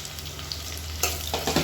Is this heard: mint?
yes